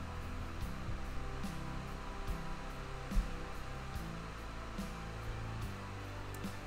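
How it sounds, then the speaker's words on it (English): Fans on a GPU mining rig spin up into a steady, whooshing airflow roar with low rumbling undertones and a few brief clicks, moderately faint and continuous, with no one speaking. "I hear the fans kicking up"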